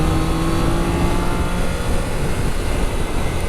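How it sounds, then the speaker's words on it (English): Triumph Daytona 660 three-cylinder motorcycle with three throttle bodies, its loud, steady induction and engine roar running continuously and close for the whole stretch, no voices. "The induction noise from those three throttle bodies is something else."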